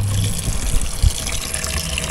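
Tap water runs steadily into a kitchen sink while dishes and spoons are rinsed during washing up on a cold winter morning, a continuous close gush with a few small knocks and no talk.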